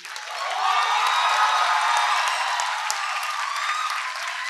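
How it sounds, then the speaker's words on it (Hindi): An audience at a stage performance of the Hindi play Konark, welcoming the actors, breaks into applause that swells within the first second, then holds as a thick, sustained clapping with scattered cheers. "कलाकारों की सूची में नाम लेता जाऊँगा और उनकी हौसला अफजाई के लिए आप तालियों से स्वागत करेंगे"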